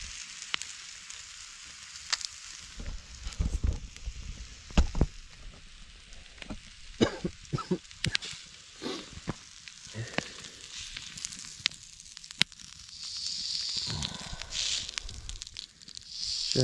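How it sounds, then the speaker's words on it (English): Trout frying in a pan at an ice-fishing campsite, steady soft sizzle with scattered pops and crackles, close by and without talk. "Nothing better than cooking a nice juicy trout."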